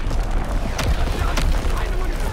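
Artillery barrage in Call of Duty: WWII, heavy rumbling booms with two sharper blasts rolling under a radio-style in-game voice.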